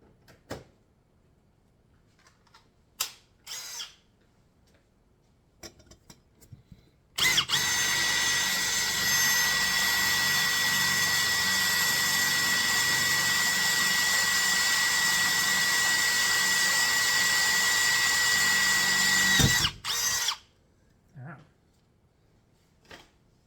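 A power drill whirs at a steady high pitch for about twelve seconds while drilling holes in a turbo RX-8, framed by scattered clicks and handling knocks before and after.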